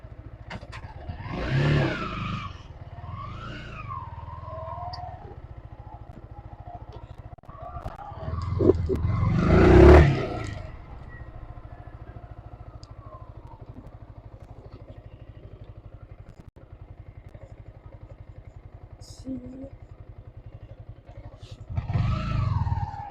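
A Yamaha R sport motorcycle is ridden, its engine revving up in a few bursts between steadier idle-like running, moderately close and loud, with no talking over it.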